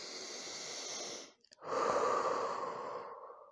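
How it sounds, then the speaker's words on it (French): A person meditating takes a slow, deep breath, heard close and soft: a long exhale-like rush, a brief pause, then a fuller, louder inhalation that tapers away, with no talking. "inspirez profondément"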